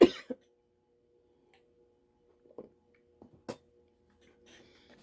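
A few short, scattered coughs and throat-clearing sounds come from a nearby person who has a lingering post-Covid cough, separated by quiet pauses in an otherwise silent room.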